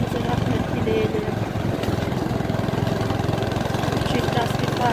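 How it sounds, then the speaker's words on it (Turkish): A motorcycle engine runs steadily throughout, a continuous low mechanical rumble with a rapid pulsing beat, fairly loud and close. "İnşallah motorun sesi fazla gelmiyordur."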